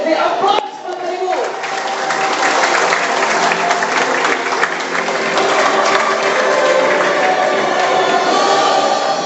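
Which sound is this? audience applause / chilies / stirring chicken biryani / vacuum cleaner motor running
audience applause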